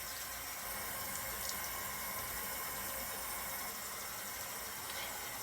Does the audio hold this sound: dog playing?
no